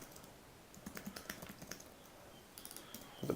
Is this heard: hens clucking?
no